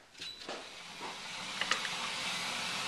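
Water heating with beef in a stew pot on a stovetop burner comes to a boil, making a faint, steady steamy hiss with a few small pops and ticks, and no voices.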